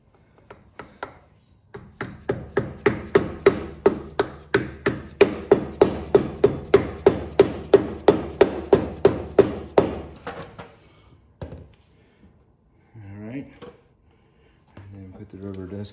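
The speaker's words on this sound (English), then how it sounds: "we'll tap the cap back on." Hammer tapping a dust cap onto a greased trailer wheel hub, a long run of about thirty evenly spaced sharp metallic taps close by, followed by someone talking.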